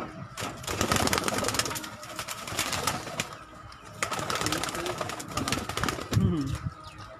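Pigeons coo on a Lahore rooftop amid busy outdoor noise and bursts of wing flapping, with the calls fairly close but partly masked by the surrounding clatter.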